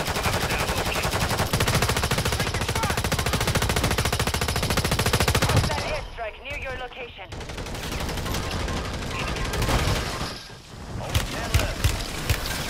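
Rapid automatic gunfire from a Call of Duty match, loud and dense bursts for several seconds, a brief lull, then more shots and bursts, with players' voices underneath.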